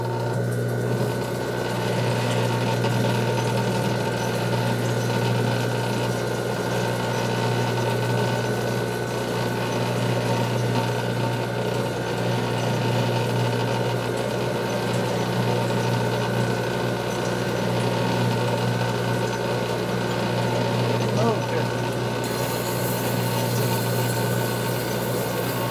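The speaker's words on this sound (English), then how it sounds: "we put on a smoother wheel. We're going to smooth it out just a little bit before we glue." Glass being ground and smoothed on a smoother wheel before gluing, a steady, continuous mechanical whir with a constant hum running loudly and evenly throughout, no speech.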